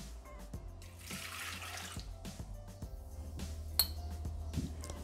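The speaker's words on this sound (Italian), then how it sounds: "Iniziamo la ricetta mettendo all'interno del boccale l'acqua." Water is poured into the jug of a Thermomix, a splashing, trickling flow with small clinks of the jug, fairly quiet and close, no talking.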